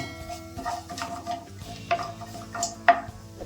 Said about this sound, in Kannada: ಪ್ಯಾನ್ ತೊಗೊಂಡು ಸ್ವಲ್ಪ ಎಣ್ಣೆ ಹಾಕೊಳ್ಳೋಣ, ಸ್ವಲ್ಪ ಸಾಸಿವೆ ಹಾಕೊಳ್ಳೋಣ, ಸ್ವಲ್ಪ ಜೀರಿಗೆ